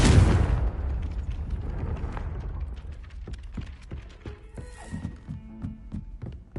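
A Confringo spell in the Hogwarts Legacy video game erupts in a single loud, close explosive blast that fades into a rumbling tail, followed by scattered lighter thumps and clatters.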